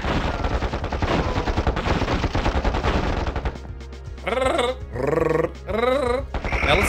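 Rapid, continuous gunfire from KKND Xtreme tanks in battle, dense bursts for several seconds, then a lull broken by rising, warbling weapon-like tones in short blasts.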